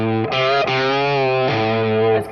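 Overdriven electric guitar playing a short blues phrase, with notes bending upward in pitch near the end, loud and sustained with no talking.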